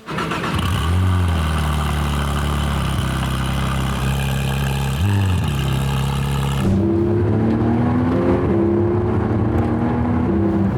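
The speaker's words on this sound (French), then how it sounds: "Le bruit d'une GT3 RS décatalysée avec la boîte de vitesse PDK qui roule." A de-catted Porsche GT3 RS with a PDK gearbox drives, heard from inside the car: a loud, continuous engine drone that rises and falls with revs, dips briefly at a shift, then settles into a deeper, steady pull.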